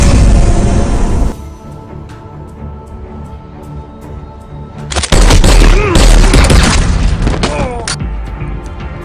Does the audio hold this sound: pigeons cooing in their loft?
no